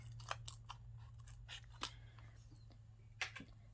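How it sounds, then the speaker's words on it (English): Scissors snip open a plastic package of nail strips in several quick, crisp cuts spread across a few seconds, close and fairly quiet over a steady low hum. "I'm trying to move the strips down so that I can cut this open without cutting the strips."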